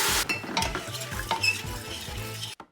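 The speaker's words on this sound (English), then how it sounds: "We'll add all this beautiful garlic, and stir and saute that for a couple of minutes as well" Garlic stirred and sautéed in a pot for beef bourguignon, a steady sizzle with repeated scraping and stirring strokes and light clinks of utensil on metal, close and loud, ending abruptly.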